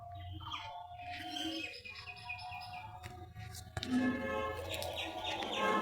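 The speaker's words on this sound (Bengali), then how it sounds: "আর এদিকে দুই শালিক এসছে জল খেতে" A pair of mynas on a rooftop give scattered chirps and squawky calls at moderate distance, mixed with faint ambient noise and no talk.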